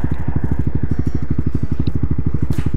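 A Honda Twister CB 250 motorcycle on the road, its engine thrumming in a steady, rapid low pulse, close and loud, with a light wash of wind noise over it.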